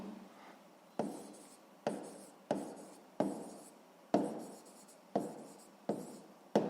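Writing on paper during a sixth-grade math exercise, a close run of eight or so quick scratchy pen strokes in an even rhythm, quiet and unaccompanied by speech.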